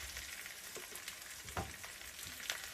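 Anchos chiles softened in a pan with chopped tomatoes and two garlic cloves frying for mole poblano, a quiet, steady sizzle with a few faint stirring scrapes.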